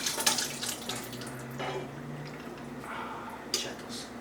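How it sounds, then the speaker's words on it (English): Liquid is poured back into a container during home vegan cooking, a splashing, gurgling pour and drips under faint kitchen hum. "So what I'm gonna do is pour this right back."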